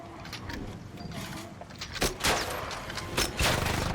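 Gunfire in ARC Raiders, from a Bullcracker weapon, comes as several loud, sharp shots spaced roughly half a second to a second apart over a low background rumble of combat.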